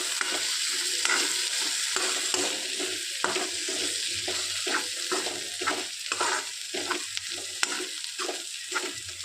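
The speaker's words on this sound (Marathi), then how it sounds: "आणि छान मिक्स करून घेऊ." A spoon stirs chopped coriander into pigeon peas chutney in a hot pan, rhythmic scraping strokes repeating over a steady close sizzle.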